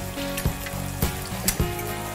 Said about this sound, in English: You guys know how to fry an egg.